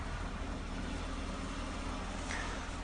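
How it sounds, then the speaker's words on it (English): A 1988 Jaguar XJ40 3.6 engine idles steadily and close, a continuous low rumble with a faint uneven hunt as the idle air control valve struggles; no one speaks. "There you can hear the idle air control valve struggling a little bit there."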